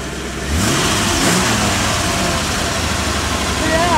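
A Corvette engine catches and settles into a loud, close, steady idle with revving, mid-pitched and filling the whole stretch.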